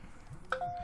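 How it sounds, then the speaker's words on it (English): A short electronic chime from a mobile phone in The Sims 4, a single bright tone that rings briefly and sustains faintly over quiet background sound. "Sorry, that's my phone."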